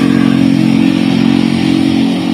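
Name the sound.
kolong-kolong motorcycle with sidecar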